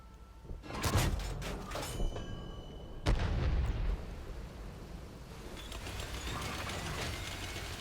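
A tank cannon fires in a tank video game, two heavy booming blasts about two seconds apart with long rumbling tails, then a steady low engine and battlefield drone.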